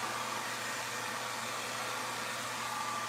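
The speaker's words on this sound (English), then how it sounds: "It's long enough that the hair dryer is on the ground." Steady, loud hair dryer blowing continuously with a constant airflow hiss and motor hum, no talk.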